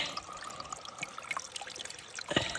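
Water from a trail source flows steadily into a filter bag with a constant rushing trickle, close and continuous, with a brief louder splash near the end.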